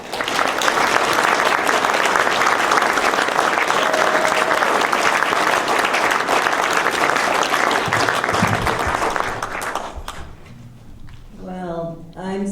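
Loud, sustained applause from an audience welcoming a speaker to the stage at a talk on war, clapping evenly for about ten seconds before fading as a voice begins speaking.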